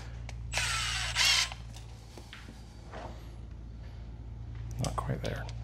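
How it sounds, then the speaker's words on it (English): A ratchet wrench fitted with a three-quarter inch socket works on the frame of a Ford F350 6.7L Powerstroke, giving a short, loud burst of rapid clicking over a steady low hum, followed by fainter scattered clicks. "Three quarter inch socket."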